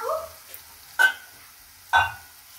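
Masala frying in oil for Punjabi chole gets stirred in a pan, a few distinct scraping strokes over a faint sizzle, no voices.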